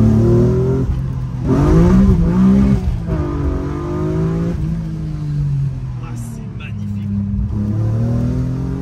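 A BMW M3 E36 with its six-cylinder engine pulls hard on a country road near Uzès, the loud rising and falling engine note shifting through revs while someone talks over it.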